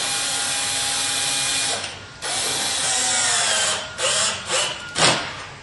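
A power drill whirs at high speed driving a self-drilling, self-tapping screw through steel, briefly pausing, then finishing with a few short bursts as it seats.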